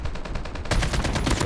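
Rapid automatic hip-fire gunshots in Call of Duty Mobile, a fast burst of sharp repeated shots that grows louder midway through.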